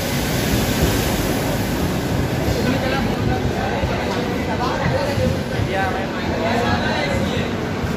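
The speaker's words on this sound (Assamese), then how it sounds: "এতিয়া আহি গ'ল ট্ৰেইন, আমি এতিয়া যাওঁ সকলোকে বাই বাই কৰিছোঁ ইয়াৰ পৰা।" A train pulls into a station on a trip toward Shillong, a dense continuous rumbling roar that fills the scene throughout, with people talking over it.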